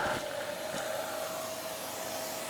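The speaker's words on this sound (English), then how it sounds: "It's actually clogging the vacuum cleaner." A vacuum cleaner sucking up engine sludge from a BMW E46 runs steadily with a loud, constant whirring roar and a high whine, close by, with no talking.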